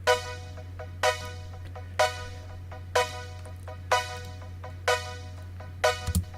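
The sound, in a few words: synth tracks: Expand 2 and Nexus LD Classic JP Leader 1 together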